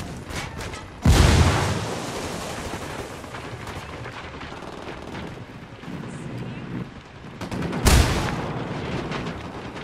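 Two heavy gunshot bursts ring out in the Ghost Recon Wildlands video game, several seconds apart, each a loud sharp crack with a rolling echo over a noisy battlefield background.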